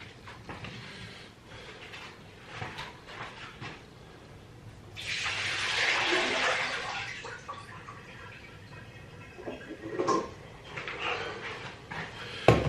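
Pickling onions rinsed under a running kitchen tap, a steady broadband water rush swelling in the middle of the stretch and returning briefly later, with quieter handling noises and splashes around it and no talk.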